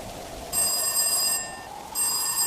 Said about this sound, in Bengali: এই বুঝে জাহিদ ফোন দিল